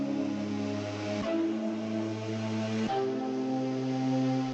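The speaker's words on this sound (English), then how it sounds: "It's called Les Andes. And it's like a flute type thing." Expand 2 plugin's Les Andes preset, a soft flute-like synth patch, plays sustained bass notes that change pitch a couple of times, smooth and steady with a breathy top and no voices.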